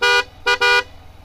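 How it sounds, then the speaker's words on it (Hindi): An aftermarket big horn fitted to a Honda SP 125 BS6 motorcycle blares three times in quick succession, one short toot, a brief gap, then two more, loud, close and brassy with a strong harmonic tone. "और मैं अभी आपको हॉर्न बजा के दिखाता हूँ बाइक का"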